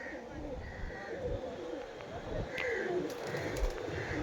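Pigeons coo softly at a distance outdoors in a breezy setting, several faint calls recurring under a steady wash of wind and background noise, with no clear talk.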